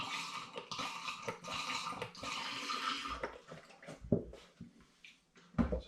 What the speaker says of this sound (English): I'm now going to top my demijohn up with some more apple juice.